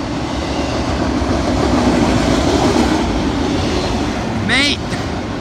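NS 8101 in Central of Georgia colors leads an intermodal freight train past at close range, a loud continuous rumble and rattle of rail cars with a brief squeal near the end.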